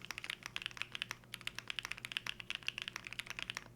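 Rapid, steady mechanical key presses on a Theseus 75 split keyboard, crisp close clacks in an uneven typing rhythm with occasional deeper spacebar thocks, no voices.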